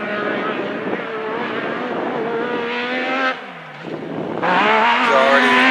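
A Yamaha YXZ race machine laps a dirt speedway, its engine loud and close, revving hard with a brief dip as it lifts off, then surging back to full throttle.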